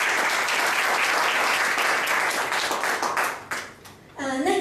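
An audience at a business talk applauds to welcome a speaker: steady, dense clapping from many hands fills the room, thinning and fading out near the end before a voice begins speaking.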